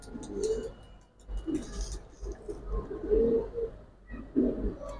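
Several pigeons coo in low, throaty bursts at close range, the calls recurring through the clip with brief pauses and no talk.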